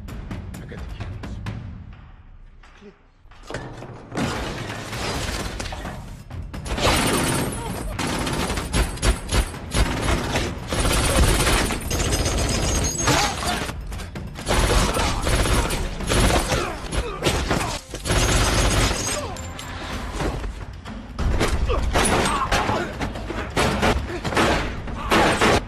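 Gunfire in a gangster action film fight: dense, loud, sustained volleys of shots and impacts over a heavy mixed soundtrack, building after a quieter opening and continuing almost without pause.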